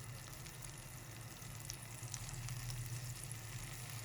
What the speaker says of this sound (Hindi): इसी मसाले के अंदर हम अपनी चिकन को पकाएंगे